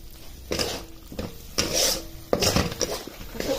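A spoon scrapes and stirs dry masala powders into a thick ground paste, giving a rough rasping sound in several uneven strokes close by, with no talk.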